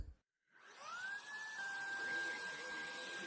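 A Vax Blade 2 Max cordless stick vacuum runs in regular mode with its powered brush bar on, starting up after a brief quiet gap into a steady, high-pitched motor whine that holds on continuously, alone and fairly close.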